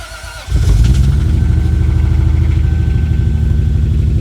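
A Lexus SC300 engine, just after a clutch replacement, cranks and catches about half a second in, then settles into a loud, steady, throbbing idle close by, with no voices.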